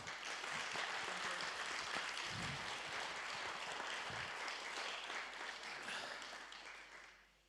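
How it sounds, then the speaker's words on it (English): Audience at a vocational excellence award ceremony applauds steadily for several seconds, a broad wash of clapping that thins and fades out at the end, with no talking over it. "I think I want to give one more extra applause for this extra mile and nomination before"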